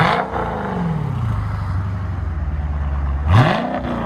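A 2018 Dodge Challenger Shaker Edition with a 6.4L HEMI V8 and dual exhaust with mid muffler delete, heard up close as a blip of revs drops into a deep, loud, lumpy idle that rumbles steadily before another sharp rev.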